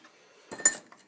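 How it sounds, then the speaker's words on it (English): A cocktail strainer clinks lightly against a glass while smoked bourbon is poured over a large ice cube, giving a brief cluster of soft metallic taps that is faint and close, with no talking. "Just take my cocktail strainer,"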